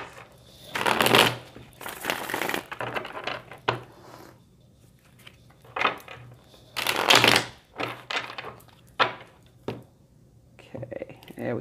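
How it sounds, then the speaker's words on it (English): Tarot cards are shuffled by hand in irregular bursts of papery riffling and tapping, close up, with soft whisper-like speech and pauses between. "Let me just shuffle them a little bit more."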